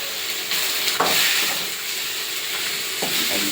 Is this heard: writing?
no